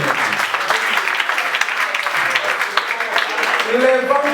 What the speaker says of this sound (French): Est-ce qu'on peut applaudir? Can we clap for me?